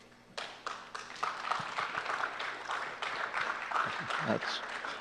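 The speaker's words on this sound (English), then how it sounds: "I'm very happy to hear that applause." Audience applause at a 2004 lecture on the psychological aspects of 9/11, starting abruptly after a quiet moment and continuing as moderate, fairly distant clapping with a few louder bursts and brief vocal sounds.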